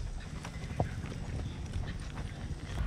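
Several horses walking in the Dominican Republic, their hooves clip-clopping in a steady, uneven rhythm close by, with faint background noise and no clear talk.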